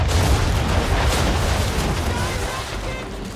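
Ship cannons boom in a naval battle in Assassin's Creed III, a loud, rumbling barrage that fades slightly toward the end, with voices shouting beneath the din.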